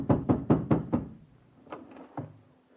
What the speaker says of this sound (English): I hammered on my landlady's door